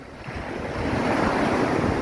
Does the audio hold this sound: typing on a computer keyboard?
no